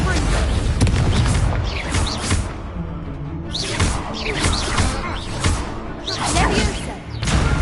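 Rapid Confringo fire spell blasts in the Hogwarts Legacy video game, a string of booming explosive hits and whooshes over dense game music and effects, with a voice shouting spell names throughout.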